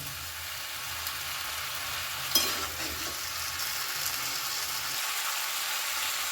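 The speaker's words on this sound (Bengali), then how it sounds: "এর মধ্যে দিয়ে দিলাম ভেজে রাখা সমস্ত সবজিগুলো ভালো করে মিশিয়ে নেব সব কিছু একসাথে" Fried vegetables stirred together in a pan for a Bengali chhyachra dish, with a steady sizzle, scraping stirs and a brief clatter of the utensil against the pan, no voices.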